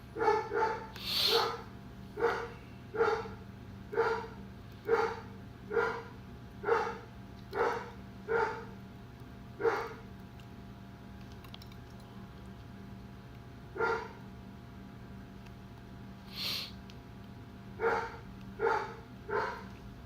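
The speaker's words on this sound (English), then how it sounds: "Man, if this dog don't shut up." A single dog barks repeatedly nearby in a steady series of sharp barks, pausing briefly and then barking a few more times over a quiet room hum.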